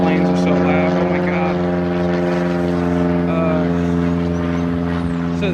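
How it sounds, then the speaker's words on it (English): Propeller aircraft drone loudly overhead, a steady harmonic engine roar filling the whole clip at close range, with some speech faintly underneath. "These damn planes are so loud."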